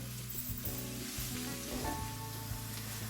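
Onions frying in a pan for courgette curry, a soft steady sizzle with low clicking stirs and tonal hum beneath, close and fairly quiet.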